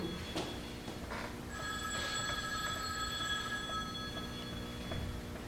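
A telephone bell rings in a steady trilling tone that holds for a couple of seconds, moderately loud over a faint background hum with a few soft knocks, and no one speaking.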